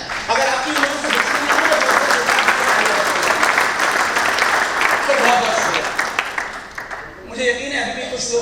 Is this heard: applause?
yes